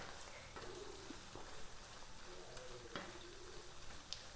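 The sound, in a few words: stirring chicken liver pepper fry in a pan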